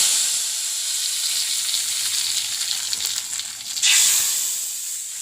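Hot mustard seed tempering goes into a simmering mango pulissery curry. A steady frying sizzle runs throughout, then a louder, hissing burst swells near the end and settles back. Close by, with no talking.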